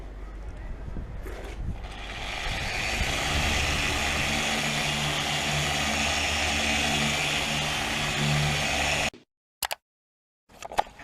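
A boat polishing machine runs at speed setting 4 on a boat's body, giving a steady loud whirring drone with a low hum that continues for several seconds before stopping, followed by a few brief knocks.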